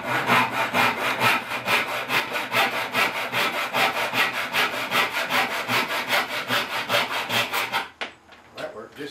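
A small, coarse hand saw cuts through a wooden chair leg in quick, even back-and-forth strokes, loud and close, ending with a few scattered knocks as the piece comes free.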